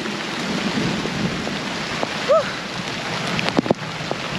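Steady rain hiss in the Florida Everglades during a thunderstorm, with a faint rumble of thunder low in the mix and a few sharp nearby knocks toward the end.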